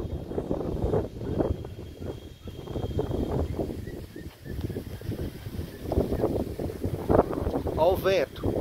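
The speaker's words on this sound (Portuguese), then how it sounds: "Ó o vento." Gusty wind buffets the microphone at the Crucilândia hilltop lookout in Minas Gerais, rising and falling in rumbling bursts while people talk nearby.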